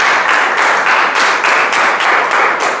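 An audience at a Toastmasters club meeting claps after a speaker is introduced. The applause is loud and steady and lasts the whole time, with no voices over it.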